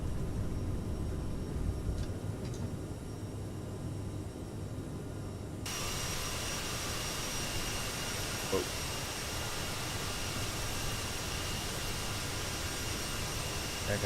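CRJ-700 jet engines in Microsoft Flight Simulator roar at takeoff rotation on departure from Tromsø, a steady broadband rush that swells into a louder, brighter wash partway through and holds.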